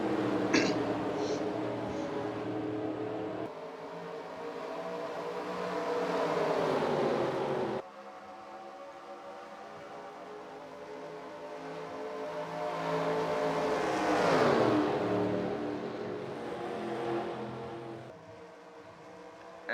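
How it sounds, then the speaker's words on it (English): Race cars accelerating at a restart in the iRacing sim race at Daytona, engines rising and shifting through gears in long swelling whines, with a commentator talking over them. "Through the gears they go, we're green again."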